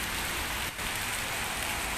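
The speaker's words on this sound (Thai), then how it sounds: "พบกับบรรยากาศไลฟ์สดในวันฝนตกชุ่มช่ำค่ะ" Steady rain pouring down outside a tractor showroom in Thailand, a dense continuous hiss of drops hitting surfaces with a brief dip partway through, no voices.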